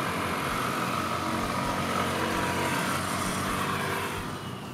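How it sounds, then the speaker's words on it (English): A steady low scooter engine rumble with a deep broadband exhaust drone, constant and moderately close, no speech. "special mention must be made of the TVS's exhaust note, which is nicely deep at low speeds"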